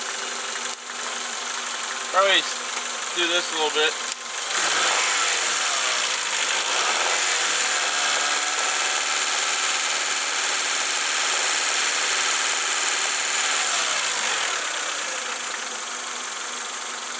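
A 1990 Honda Accord engine idles steadily while warming up, a continuous mechanical hum that runs the whole time, with someone speaking over it near the start.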